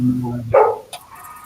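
A single sharp dog bark up close, followed by a brief quieter yip or whimper.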